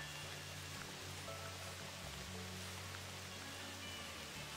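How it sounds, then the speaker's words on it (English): Steady rain falling across a multiplayer video game server world, a soft, even wash of broadband patter that holds constant throughout, quiet and continuous with no voices. "We've got a really rainy server."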